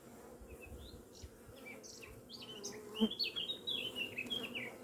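Honey bees buzzing around the hives at an apiary, a faint, steady hum with brief higher buzzing passes, and a few light chirps near the end.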